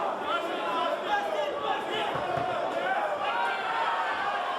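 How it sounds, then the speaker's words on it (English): Crowd roaring and chattering steadily through a Ringwars kickboxing fight, with a commentator talking over the dense wash of noise. "Listen to the crowd, they're loving this one."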